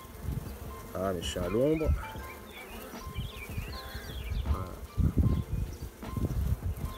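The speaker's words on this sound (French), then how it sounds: "Un peu plus agité, hein, ces abeilles." Agitated honeybees buzz around an open hive. A continuous close, wavering hum fills the clip, with brief voice sounds and talk over it and some handling noise near the end.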